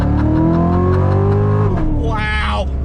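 A Chevrolet Corvette C7 Z06 at full throttle, its loud engine note climbing steadily, then dropping sharply through a gear shift before pulling hard again, heard close from inside the car.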